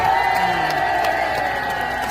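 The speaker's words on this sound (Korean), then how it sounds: "우리 경찰분들 위해서 박수 한번 쳐주시기 바랍니다." A crowd at a political rally cheering and applauding for police officers: a steady, dense wash of clapping and shouting voices that continues without a break.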